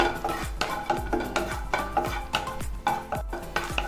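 Cashew nuts fry in hot ghee while a spatula scrapes and stirs them around the pan in a regular rhythm of close strokes, with a faint sizzle underneath.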